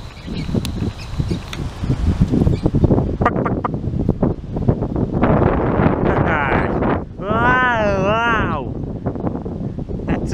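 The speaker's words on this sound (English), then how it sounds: "It's a bit windy." Gusty wind buffets the microphone outdoors in a farmyard with chickens, a steady loud rumble of noise throughout, with a squeaky whistling or chirping sound near the end.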